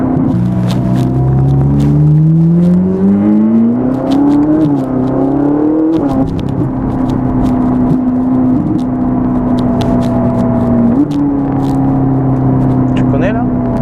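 Ferrari 458 Italia on a mountain drive, its gearbox whining over a steady, close engine drone that rises and falls smoothly and continuously throughout.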